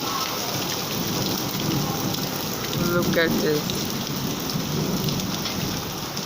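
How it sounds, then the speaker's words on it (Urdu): Steady heavy rain pours down on a street while a rumble of thunder rolls in midway, with someone speaking briefly over the storm. "بادل گرجے ہیں"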